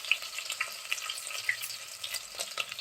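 Onions fry in hot oil in a pan, a close, thin crackling sizzle with scattered sharp pops and spits over a quiet background, no voices.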